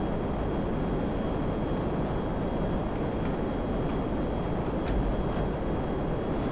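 An airplane flies during a stunt run in GTA Online, its engine a steady, dense drone that holds level throughout without any talking.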